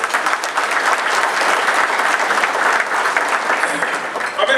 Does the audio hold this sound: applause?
yes